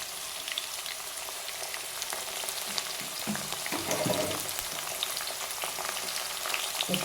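Green chilli, ginger and curry leaves fry in hot oil for a star fruit pickle, making a steady close crackling sizzle with occasional stirring knocks and a brief spattering flare in the middle.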